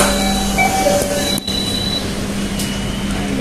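A Jakarta LRT train at a station, heard as a loud, steady rumble with tonal hums and faint wheel squeal, recorded close by from a platform or onboard, with no talk over it.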